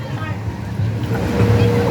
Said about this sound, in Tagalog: Kaya pala nag-wave kasi pinaandar yung motor doon.